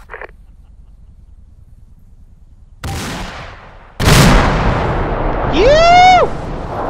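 In ArmA II, a quiet stretch breaks with a sharp blast, then a second, louder explosion that rumbles and rolls on, followed by a rising, whistling tonal sweep; no one talks.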